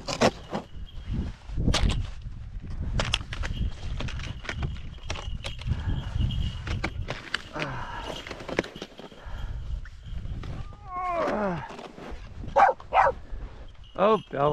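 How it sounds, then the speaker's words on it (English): Dog barking on a snowy slope of Mount Saint Helens, short sharp barks scattered through the clip, moderately close, mixed with crunching footsteps and a person talking. "it's a dog"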